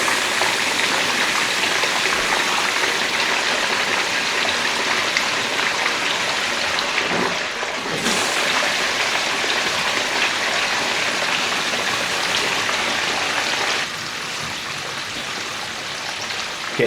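Water rushing steadily as a pump fills a home well system's pressure tank, a continuous loud gushing flow that stays even and then drops slightly near the end.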